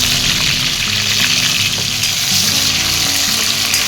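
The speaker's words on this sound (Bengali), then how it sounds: "কড়াইতে আমি সেই তেলে আলুগুলো হালকা ভেজে নিব।" Potatoes fry lightly in oil in a wok for a chicken biryani, giving a steady, loud, close sizzle that carries on without a break and with no voices.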